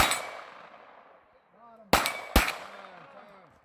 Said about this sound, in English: We had a spinner, and we both decided that we were gonna shoot the bottom first.